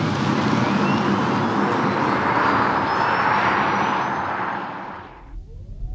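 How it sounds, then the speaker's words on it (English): A Cupra Born electric car accelerates at full throttle in its sportiest mode, giving a loud, steady broadband rush of road and wind noise that builds and then cuts away near the end. "Now I don't really need to do anything apart from slam the throttle."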